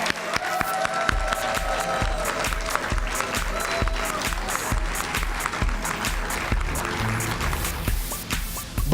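Sustained audience applause fills a Hall of Fame induction ceremony hall, dense clapping steady and loud for the full stretch, with faint murmurs and scattered voices beneath.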